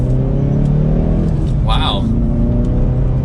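Hyundai Veloster N hot hatch pulling from second gear in sport mode, its exhaust droning steadily and close with engine rumble throughout, a brief voice exclaiming partway through.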